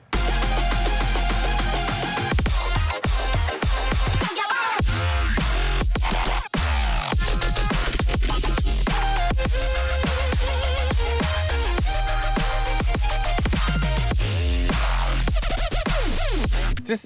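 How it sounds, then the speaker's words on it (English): A melodic dubstep drop at about 105 BPM in a classic brostep style: loud, dense and continuous, with heavy sub bass, wobbling mid synths and sharp rhythmic cuts, playing alone with no voices. "This is like the melodic dubstep drop"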